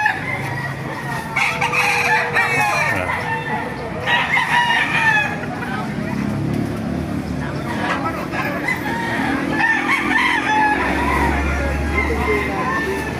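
Caged roosters at a market in Baliuag crow repeatedly, several long calls overlapping, amid steady background noise, a passing engine rumble, and people talking nearby.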